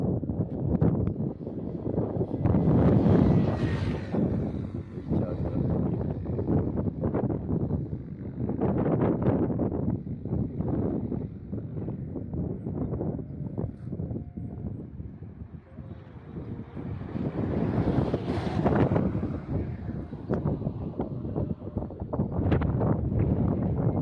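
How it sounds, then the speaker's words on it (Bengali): Wind rushes across high mountain country in Ladakh, a continuous loud roaring buffet that swells and eases over the whole stretch, with low gusty rumbles close to the microphone and no voices. "চতুর্দিকে হাওয়া বইছে।"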